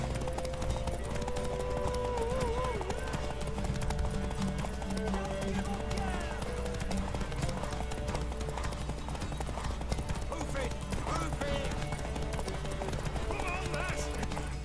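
Horse hooves clip-clopping in The Witcher 3: Wild Hunt on PS4, a steady rhythmic trot that runs under in-game music and character dialogue, with a brief whinny.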